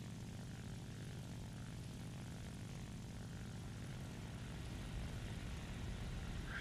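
Steady, droning propeller aircraft engine in the War Thunder video game as the plane dives, a continuous loud roar with rumbling low end that holds throughout without any talk.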